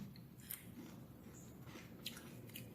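Soft, quiet chewing of crispy chicken skin, with a few brief crunchy bites standing out over a low background hum.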